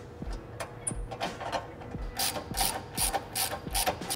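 A long 5mm Allen bolt being snugged into a tow hook bolt on a license plate bracket, a steady series of close ratchet clicks with faint metallic ticks, no talking.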